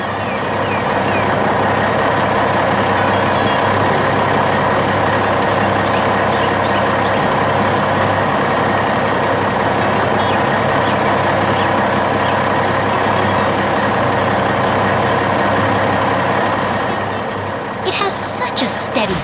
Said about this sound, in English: a big green dump truck rumbles by, carrying a heavy load to keep the construction moving forward